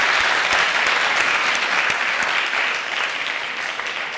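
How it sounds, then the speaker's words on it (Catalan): An audience gives loud, dense, continuous applause that tapers slightly toward the end, with no talk over it. "Anem a escoltar un fort aplaudiment, va aplaudiment."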